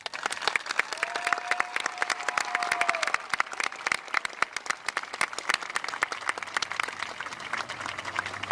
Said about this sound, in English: turn around, and give them a round of applause.